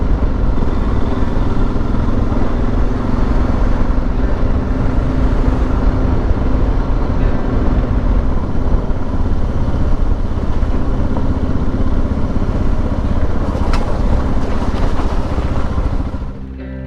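Motorcycles from a group ride passing close on Bloom Lake Road, a loud continuous rumble of engines rolling by one after another and fading at the very end.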